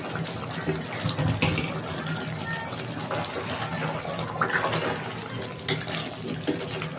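Water poured into a mixer jar of ground tomato while cooking chicken darbar kurma, a close splashing and trickling pour lasting several seconds with small clinks.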